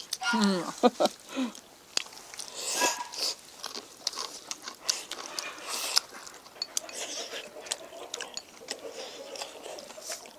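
Someone bites and chews stir-fried wild greens (yellow wormwood shoots) with pork slices and egg, giving soft crunchy bites up close, while people talk over the chewing outdoors.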